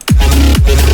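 Complextro buzz bass synth patch built in Serum, two loud gritty notes each starting with a fast downward pitch sweep into a sustained harsh buzzing tone, heard alone.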